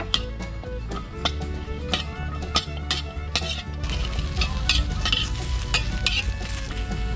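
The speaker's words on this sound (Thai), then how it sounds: "นำพริกชี้ฟ้าแดง หอมกระเทียมนะครับ มาคั่วไฟอ่อนๆให้หอมเลยครับ" Red chillies, shallots and garlic dry-roasting over low heat in a pan for jaew pla ra, with steady stirring scrapes and repeated utensil knocks against the metal, close and fairly loud throughout with no voices.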